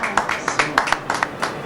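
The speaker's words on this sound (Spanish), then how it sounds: "Un aplauso al novio, venga." A small group of people claps for a groom arriving at a wedding, with around nine or ten sharp, uneven claps spread across a short burst, fairly close and moderately loud, with no clear talk over them.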